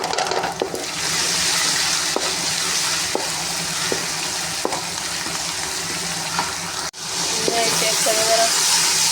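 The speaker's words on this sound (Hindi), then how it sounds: "अब ये इसके साथ फ्राई हो जाएगा गोल्डन ब्राउन।" Onions sizzle and fry in a pan with ginger, garlic and chili paste, a steady close hiss with occasional stirring clicks and a brief pause near the end.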